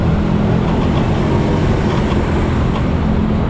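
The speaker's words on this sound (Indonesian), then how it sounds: "Wah, itu ada kereta apa itu?" Street traffic at the Jalan Pramuka railway crossing (JPL 40) near Matraman, Jakarta, as a train passes: a steady, loud, broadband rumble and roar that runs unbroken the whole time, with no voices.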